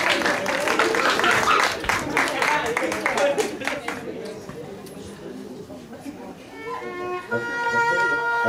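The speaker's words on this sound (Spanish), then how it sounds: "Un fuerte aplauso para papá e hija" At a quinceañera party, guests clap for a father and his daughter. The loud, dense applause lasts about four seconds under a speaking voice, then fades as music begins.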